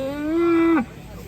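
A single long, loud cow moo during unloading from a truck, steady and drawn out for nearly a second before cutting off, with a quiet background afterward.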